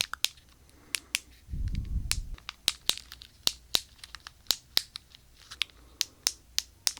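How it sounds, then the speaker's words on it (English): Sharp clicks of buttons pressed on a sensory fidget cube, close up, arriving as a steady series of separate snaps with a short muffled rustle early on and no talking. "maybe that's the sound of just buttons being pushed."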